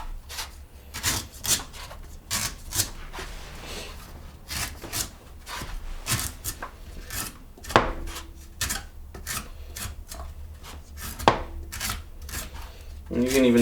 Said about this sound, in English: So you find the point of the coconut, and you just start shaving away some of this husk.